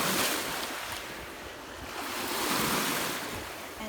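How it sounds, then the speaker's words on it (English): Gentle ocean waves wash over bare feet at the shore, a soft continuous surf hiss that swells and recedes with faint wind noise. "As the waves go over my feet"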